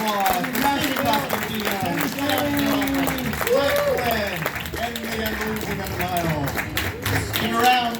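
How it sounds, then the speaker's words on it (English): Applause from a fan convention panel audience in Nashville runs beneath overlapping voices and chatter, the clapping moderate and continuous rather than dominant. "Big round of applause"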